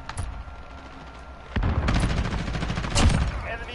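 AK rifle fire in the video game Modern Warfare: a short shot near the start, then a loud, dense stretch of rapid gunfire over the second half, with game effects underneath.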